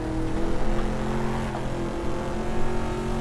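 A Corvette engine in the GTR2 racing game revs hard through the gears, a loud, steady motor tone with small surges as the revs rise and fall, and no break across the whole stretch.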